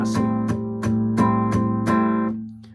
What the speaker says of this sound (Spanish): lo toco con un estilo muted, que quiere decir que descanso la palma de mi mano aquí en esta parte cerca del puente